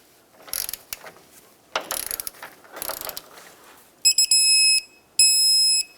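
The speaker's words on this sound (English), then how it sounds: "Now let's tighten the rear one, hold the bolt, and tighten up the nut side. Torque the nut side." A control arm nut on a 1996-2002 Toyota 4Runner is tightened with a ratchet in three bursts of clicking, followed by two loud, sustained electronic beeps from the torque wrench.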